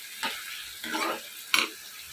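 Mushroom curry with onions frying in a pan, stirred in three separate bursts of scraping and sizzling, close up with quiet pauses between strokes.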